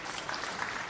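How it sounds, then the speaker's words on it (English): A TED conference audience claps in a dense, even burst that fills the whole brief moment, with no voices standing out. "You can clap about that all you want."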